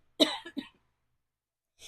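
A single person's cough, close and dry, two quick bursts followed by a short pause and a faint breath.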